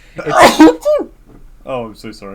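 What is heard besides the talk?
sneeze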